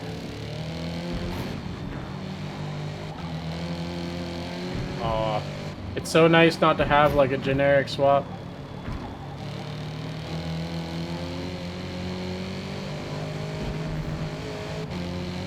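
HSV GTS engine in a racing video game, revving hard in a short burst of rising harmonic sweeps over a steady idle drone, with someone talking before and after.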